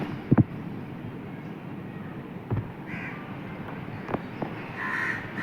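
Crows caw nearby after a lightning strike hit a tree, with a few harsh calls spread across the clip over steady rumbling background noise.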